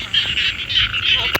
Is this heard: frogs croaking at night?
yes